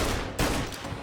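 Gunfire in the video game Mafia: Definitive Edition, a dense burst of rapid shots with one louder crack partway through, short and loud.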